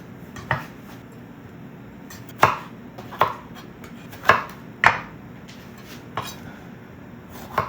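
Knife chopping onions on a board for a homemade shepherd's pie, a handful of sharp, irregular thuds spaced out over several seconds, close by, with faint kitchen clatter between the strikes.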